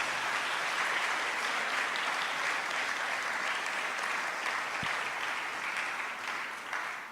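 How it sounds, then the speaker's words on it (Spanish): A church congregation claps together in steady, dense applause for the Lord, a continuous wash of hands that holds evenly for several seconds before easing slightly at the end. "le damos un aplauso al Señor para que rompamos el hielo"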